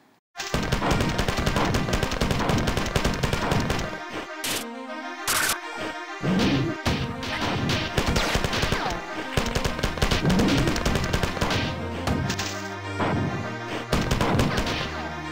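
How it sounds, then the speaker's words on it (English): Grenade blasts and rapid gunfire from the video game Marathon, dense and loud throughout with bursts of automatic fire and heavy explosions stacking on one another. "Grenades aplenty."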